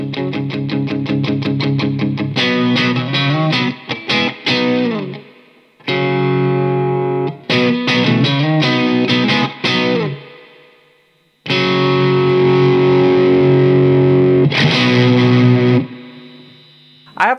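An electric guitar runs through a Keeley Katana clean boost pedal, playing loud, driven, strummed chords and rhythmic chugging in several bursts separated by short gaps, with no talk over it.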